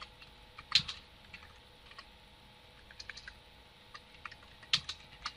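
Quiet, sparse keystrokes on a computer keyboard, a few scattered clicks with two slightly sharper taps, over a soft steady background hum.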